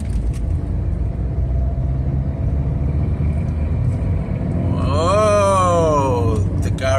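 A Fiat Punto in third gear at about 30 km/h accelerating under half throttle, a loud steady engine and road rumble that swells into a rising whine toward the end.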